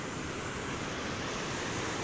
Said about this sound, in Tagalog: So, titingnan natin yung falls dito.